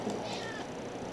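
A single short cat meow from the Minecraft video game, moderately loud over a noisy background, with no talking.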